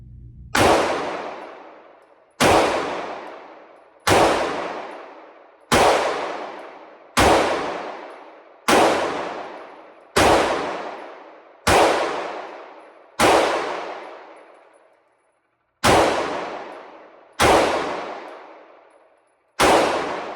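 A CZ P10-C pistol fired slowly through a full magazine, each loud, sharp report evenly spaced about every second and a half with a ringing decay, a longer gap before the final two shots.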